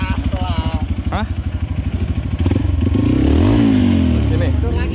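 A motorcycle engine idles with a steady chugging pulse on a slippery road, then revs up loudly and holds a high, roaring pitch, with people talking over it.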